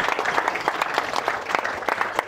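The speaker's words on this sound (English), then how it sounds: "You can applaud now if you wish." Audience applause in a hall during a wedding cabaret act, a steady run of many hands clapping that fills the room, close and fairly loud with no talk over it.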